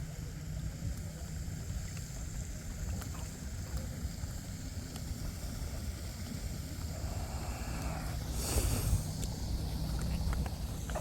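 A small RC boat motor whines steadily across the water at a distance, with a brief splashing surge near the end.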